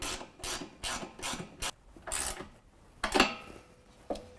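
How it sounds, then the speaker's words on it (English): A wrench tightens a nylock nut with a 13mm socket on a Havoc HS3 hoop step bracket of a GMC Sierra or Chevy Silverado truck, giving a series of close, rasping ratchet strokes in short bursts with pauses. "we're going to tighten the nylock down with a 13mm up top"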